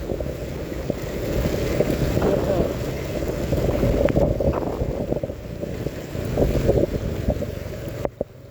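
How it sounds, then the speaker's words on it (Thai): Heavy rain pours during a road trip from Maha Sarakham toward Roi Et in Thailand, a continuous rushing roar with wind buffeting the microphone and a voice speaking briefly in places. "ฝนตกหนักมากเลย"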